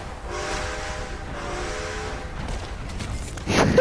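A steam train from Red Dead Redemption 2 rumbles along steadily and fairly loud, with a tonal whistle-like hum sounding through it and a sharper burst of noise right at the end.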